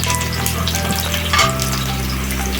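Ginger garlic paste frying in hot oil in a pan for a meal maker (soya chunk) curry, a close, steady sizzle that runs without a break and swells briefly midway.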